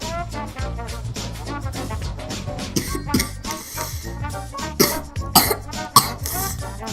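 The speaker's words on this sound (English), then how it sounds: "Sorry for the coughing and sniffles." Repeated harsh coughs from someone with a cold break out at irregular intervals over a dense, continuous background sound.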